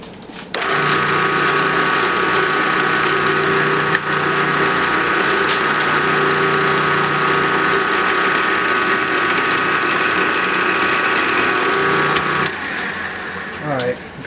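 A steady mechanical whine and hum of a PM-940 milling machine drilling 304 stainless steel runs continuously for over ten seconds, then cuts out near the end.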